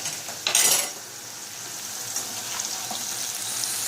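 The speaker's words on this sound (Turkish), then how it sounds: "hızlı bir şekilde kızartma işini" Eggplant and peppers sizzle and crackle steadily in hot oil, with a brief louder burst of frying early on, close and continuous.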